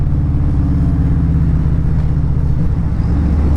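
Harley-Davidson motorcycle fitted with an RBW Skull exhaust, riding in fourth or fifth gear at around 56 mph and dropping down a gear; a steady, loud, deep exhaust rumble with strong low harmonics runs continuously, slightly shifting near the end.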